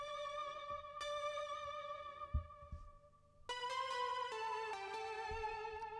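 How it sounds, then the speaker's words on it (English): A retro synth lead line made of three layered synths plays the same part as bright, sustained buzzy notes in a slow melodic line, with faint low thumps beneath, fairly quiet and alone. "So the synth line sounds like this."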